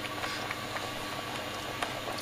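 Chicken curry with tomatoes, beans and mushy peas simmers gently over low heat, giving off a faint, steady bubbling with soft irregular pops throughout.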